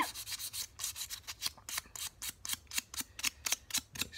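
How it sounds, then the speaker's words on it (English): Sandpaper rubbing over burned wood of a pyrography piece in steady back-and-forth strokes, a rhythmic series of close scratchy swipes with no voices. "we just give it a little bit of a sand so it doesn't look like it's too burnt"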